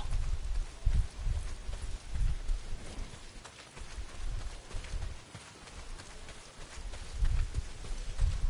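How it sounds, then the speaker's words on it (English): Heavy rain pours down in the Days Gone video game, a dense continuous hiss with low rumbling thumps underneath, steady throughout with no talking. "Not if it's pissing down rain."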